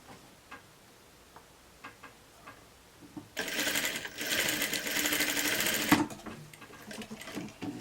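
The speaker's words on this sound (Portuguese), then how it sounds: "Pronto, eu costurei aqui." Sewing machine stitching a blouse sleeve with a bell-shaped cut. A quiet stretch with faint clicks gives way to nearly three seconds of loud, steady, close-up whirring, then fades back to light handling noise.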